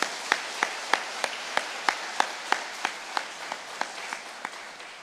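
A church congregation claps in a slow, fairly even rhythm, about fifteen distinct claps over a few seconds, moderately distant with a soft room reverberation and no voices over it.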